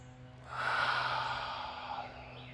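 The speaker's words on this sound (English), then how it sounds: "3 deep breaths." Slow, deep breath drawn in and let out during a yoga-style cool-down in an easy seated position, a soft airy rush swelling over about two seconds and easing off, close and alone with no talking.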